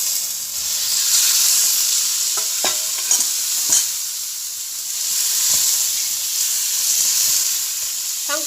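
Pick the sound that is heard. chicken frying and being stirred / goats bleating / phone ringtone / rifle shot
chicken frying and being stirred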